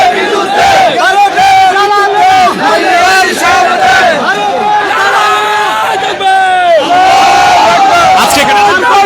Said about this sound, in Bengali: জামায়াত নেতৃবৃন্দরা কিন্তু স্লোগান দিচ্ছেন, ঘেরাও ঘেরাও ঘেরাও হবে, সচিবালয় ঘেরা হবে